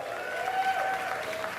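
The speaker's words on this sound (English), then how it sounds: "My round of applause." Audience applause at a stand-up comedy show, a steady crowd clatter of clapping that holds at an even level throughout and fills the whole moment without talk.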